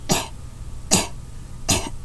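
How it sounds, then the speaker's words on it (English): Three short, sharp coughs come at an even pace, each a separate burst with brief quiet between them. "That's my cough."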